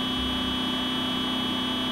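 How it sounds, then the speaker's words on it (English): A steady, sustained electronic car horn tone in the video game Project Zomboid blares continuously at full volume, flat and unbroken, with a faint low rumble beneath. "this car horn sure is loud."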